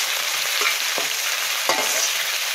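Green chillies frying in hot oil for a matar pulao, a steady bright sizzle filling the pan with a couple of soft stirring knocks, close and alone.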